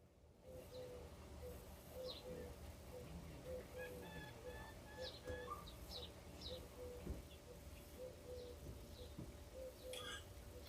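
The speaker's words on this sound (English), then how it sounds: "I do have the windows open. The birds are chirping." Birds chirp outside open windows, faint, sparse calls scattered over a steady indoor hum and low background noise throughout.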